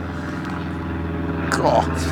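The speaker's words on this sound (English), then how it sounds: "Oh, blimey, we're being buzzed by the Red Baron." Low propeller airplane droning overhead beside a small river, a steady engine hum that swells slightly toward the end, partly under a man's speech.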